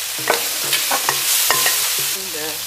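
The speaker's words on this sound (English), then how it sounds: "put in the garlic, fry the garlic until it's aromatic" Garlic fries in a hot pan for chicken with chilli jam, with a strong sizzle broken by several distinct scraping stirs of a utensil against the pan, near and loud, no voices.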